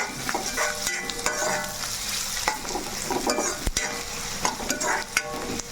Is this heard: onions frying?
yes